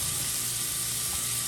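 Smash burger patties sizzling on a hot cooking surface, a loud, steady hiss and crackle of frying fat that continues without a break.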